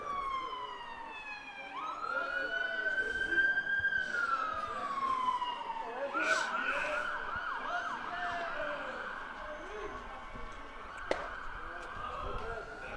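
An emergency vehicle siren wails outside a New York collegiate summer baseball game, rising and sweeping in steady pitch cycles at moderate distance over crowd murmur and ballpark ambience for the full span.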